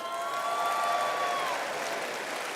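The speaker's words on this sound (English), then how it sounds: "Give yourselves a round of applause." Steady applause from a seated audience at a storytelling talk fills the space, even and sustained, with a faint whistle-like tone briefly riding over the clapping.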